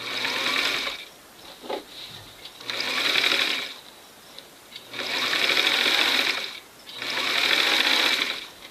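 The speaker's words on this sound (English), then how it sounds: "Thought you might want a little peek at me actually sewing this. I've got it in my machine." A sewing machine stitches fabric with piping for a bench cushion. Three long close runs of rapid mechanical whirring are separated by short pauses with small handling clicks, and there is no speech.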